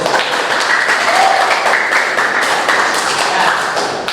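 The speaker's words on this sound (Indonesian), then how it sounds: "Tepuk tangan buat kita." Classroom of students clapping together in a steady, dense round of applause that carries evenly for several seconds before tapering slightly at the end.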